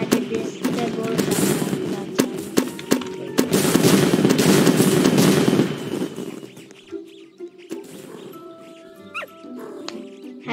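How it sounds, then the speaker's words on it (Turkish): Fireworks go off outdoors in a rapid string of sharp cracks and pops, dense and loud for several seconds, then thinning to scattered bangs, with a dog barking and voices in the background. "Havayı fişek patlatalım bari biz de burada"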